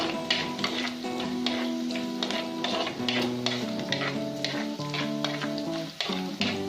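Onions sautéing in a pan for taro stem thoran, a continuous close sizzle with clinking and scraping of a stirring spoon against the pan, no speech.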